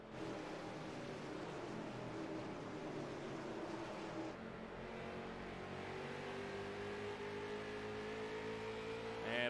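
Race cars at a short-track event at Lucas Oil Raceway drone past at a distance, engines whining and shifting pitch as they lap. The sound stays faint and is steady throughout.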